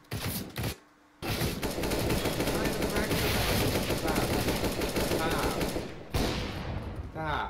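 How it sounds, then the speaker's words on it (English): Automatic-weapon fire in the video game Counter-Strike: Global Offensive, a loud, dense stream of rapid shots that stops briefly and then returns, with a player talking over part of it. "I didn't give you that gun to shoot me with."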